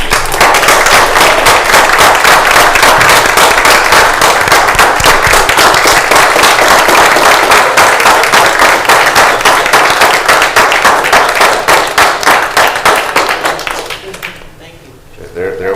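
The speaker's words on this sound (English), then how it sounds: "another round of applause for Captain Brooks" A room of people at a Lake County, Ohio commissioners meeting gives a loud, sustained round of applause. The dense clapping carries on steadily and then fades out near the end.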